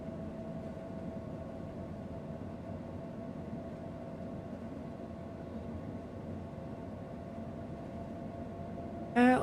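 A night train crosses a mountain pass toward Voss, heard from the driver's cab: a constant low rumble and hum of running gear that holds steady throughout, then a brief sharp beep right at the end.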